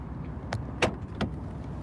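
A car door being locked, heard as three brief, soft clicks spaced about a third of a second apart over a low, steady background hum, with no one talking.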